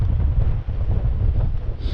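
Wind gusting hard over the top of a Dartmoor granite tor, a steady loud roar and buffeting across the whole stretch with no let-up.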